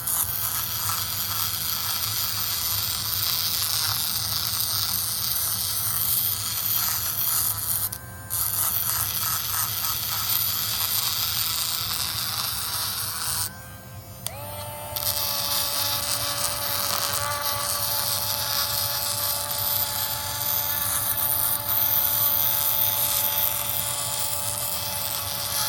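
A geode polishing machine runs at a higher speed with a continuous buzzing, grinding whine that stays loud and steady. Its pitch shifts slightly partway through, and there are two brief dips where the motor drops out.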